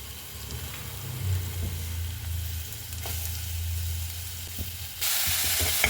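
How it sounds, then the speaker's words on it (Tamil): Onions frying in oil in a kadai, giving a steady close sizzle with a low hum underneath that brightens into a louder hiss near the end. "வெங்காயம் கொஞ்சம் வதங்கட்டும்."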